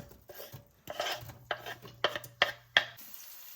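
Onions being stirred in a cooking pot, a handful of distinct scraping and clanking strokes of a utensil against the metal, close and fairly loud, with no talking.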